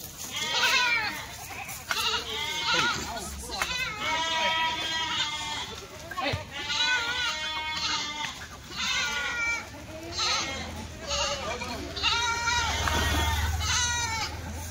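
Kathiyawadi goats bleat almost continuously, many overlapping loud calls from a nearby herd, with faint human voices and background noise underneath.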